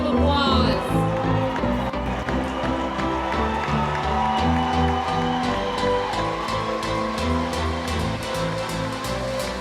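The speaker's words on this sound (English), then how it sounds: "Can we give all the winners and participants another round of applause?" An audience at a junk-to-funk recycled fashion show applauds the winners and participants, a dense, continuous clatter of clapping with some cheering, while voices talk over it.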